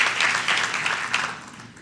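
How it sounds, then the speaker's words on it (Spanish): A church congregation applauding with dense, steady clapping that swells briefly and then gradually fades over a couple of seconds. "Denle un aplauso a estas niñas hermosas"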